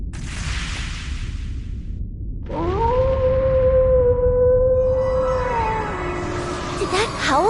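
A wolf howl in Trails into Reverie starts after a burst of noise, then holds as one long, loud, wavering tone for several seconds before breaking into harsh rising sweeps over a rumbling din.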